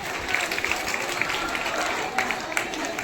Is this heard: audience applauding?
yes